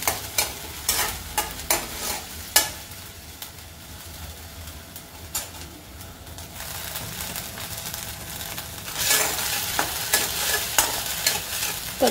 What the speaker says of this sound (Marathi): खमंग आलं लसूण मिरची कोथिंबीरची पेस्ट थोडीशी परतून घ्यायची